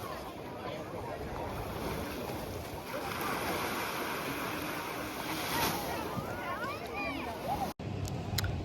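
Sea waves washing onto a beach near Algiers, a steady surging roar with wind buffeting the microphone, close and continuous, with a brief voice near the end.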